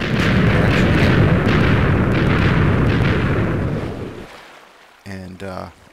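Fireworks explode in a Minecraft video game, a dense, loud rumbling barrage of overlapping booms that rolls on for several seconds and fades, followed by a brief voice.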